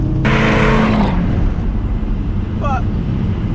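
A TorqStorm-supercharged 2010 Chevrolet Camaro SS makes a loud engine and exhaust roar: a short burst of revving at first, then it settles to a steady droning cruise heard from inside the car.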